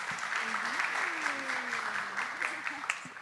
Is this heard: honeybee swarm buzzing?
no